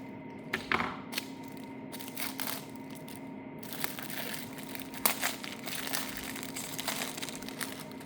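Snips slice into crinkly plastic packaging on a parcel of Japanese imports, giving a run of close crackling, crumpling rustles with a few sharp snapping cuts and soft thumps.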